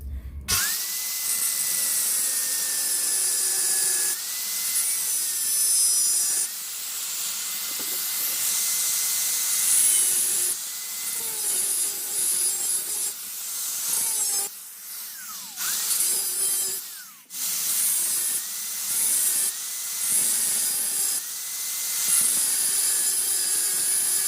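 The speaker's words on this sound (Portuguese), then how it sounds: "É só lixar ele com o disco da lixadeira." An angle grinder fitted with a sanding disc grinds the weld bead off a microwave oven transformer, giving a loud, sustained hissing whine that shifts pitch as the disc digs in, with short pauses and a few clunks between passes.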